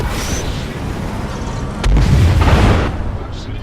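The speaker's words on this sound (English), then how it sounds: "Launching missiles." Missiles launch and explode in the Arena Commander space combat game, a deep booming blast swelling over a steady rumbling engine drone, loud and close, with a sharp crack just before.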